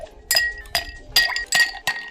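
Ice cubes clinking into a cocktail glass while an Old Fashioned-style drink is built with gin; five sharp, bright clinks land roughly every third of a second, close and fairly loud with no talking.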